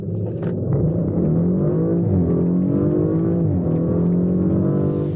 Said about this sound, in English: The valve-controlled mufflers can open in a blink, toggling the soundtrack from tastefully restrained to head-turning howl